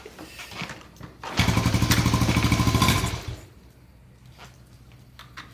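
A Trail 70 motorcycle engine with the choke on kicks over and fires, a loud rapid chugging burst lasting about a second and a half before dying back to quiet clatter.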